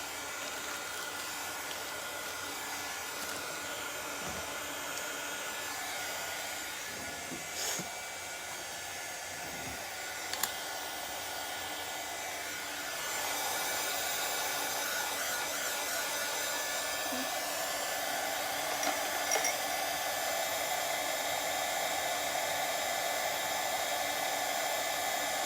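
A hair dryer blows steadily on a Mother's Day craft kit project, a constant airy whoosh that grows a little louder about halfway through, with a few faint clicks and no talk.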